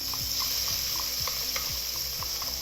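White onions sautéing in a pot, a wooden spoon stirring through them in steady scraping strokes over a constant close sizzle, with faint clinks against the pot.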